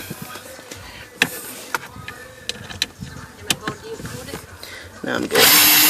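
A power drill backs out screws on an M37 cabin filter housing, several short whirring bursts spaced through the clip, with a louder, sustained run of the drill near the end.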